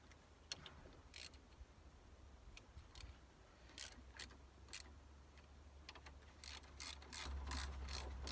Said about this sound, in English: I'm just going to grab my torque wrench